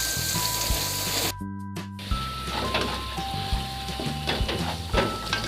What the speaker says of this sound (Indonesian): Ini kita tumis sampai bumbunya ini harum dan matang.